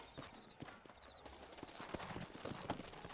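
Horse hooves clip-clop in a steady rhythm on a town street in the Western video game Red Dead Redemption, moderately close, with faint background ambience and no talk.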